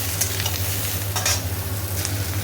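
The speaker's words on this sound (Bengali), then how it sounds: "ঝিঙে আর ঢ্যাঁড়স দিয়ে দিয়েছি, ভালো করে ভাজা হচ্ছে এখন" Ridge gourd and okra, added after potatoes, fry in a pan with a steady close sizzle and occasional stirring scrapes, with no voices.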